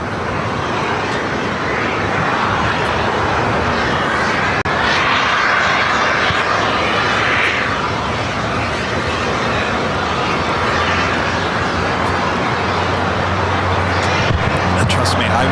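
An American airliner takes off from runway 25 right at LAX, a loud, steady engine roar filling the whole stretch with no letup, heard from fairly close by.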